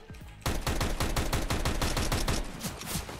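Rapid automatic gunfire from a shooter video game with a Tech Nine in play, a loud steady burst of closely spaced shots running almost continuously after a brief quiet start.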